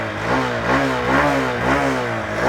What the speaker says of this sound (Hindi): आइडियल कंडीशन पर आप इस बाइक का इंजन साउंड सुनो, एग्जॉस्ट नोट सुनो।